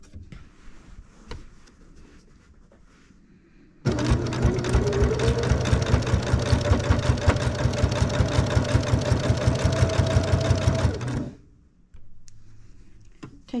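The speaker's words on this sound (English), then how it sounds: "now that we're approaching the corner, I want to make sure and stop sewing and backstitch" Sewing machine running steadily for about seven seconds while stitching a beginner pinwheel quilt, a rapid even needle chatter with a motor hum, starting abruptly and stopping sharply, close and fairly loud.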